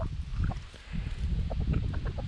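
A Chantecler partridge hen with no comb clucks on a homestead. Her low, busy clucks come in a steady run, close and fairly loud, over broad outdoor noise.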